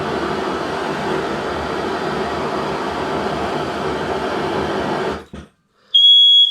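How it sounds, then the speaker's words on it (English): A steady rumbling roar cuts out abruptly, then a loud, piercing electronic smoke alarm test tone sounds close by. "Mike's doing the smoke alarm test."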